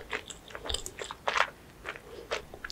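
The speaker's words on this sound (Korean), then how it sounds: "김이랑 참기름으로 마무리해서 한입 먹어봤는데" Someone eats fried rice finished with seaweed and sesame oil, after chicken tteokbokki, with close, soft crunchy bites and chewing in irregular bursts, without talk.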